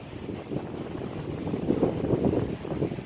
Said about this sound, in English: old wind's getting up